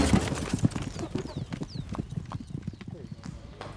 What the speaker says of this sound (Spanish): Es el mejor caballo que hemos visto correr.